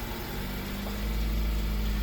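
A 2014 Kia Soul engine idles steadily at close range, a low continuous rumble with no voices.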